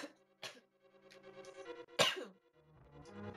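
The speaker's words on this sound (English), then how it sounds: "I had to cough." A single sharp cough breaks out midway, close and loud, amid scattered vocal sounds and faint tonal background noise.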